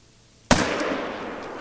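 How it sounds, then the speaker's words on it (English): A single sharp rifle shot in the hunting game theHunter: Call of the Wild cracks out suddenly after a quiet moment, followed by a long, noisy echoing tail. "I love the sound of that rifle"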